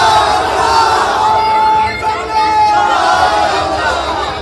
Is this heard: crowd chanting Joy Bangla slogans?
yes